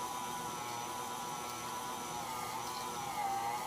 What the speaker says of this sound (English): I'm just going to put this into the mixer now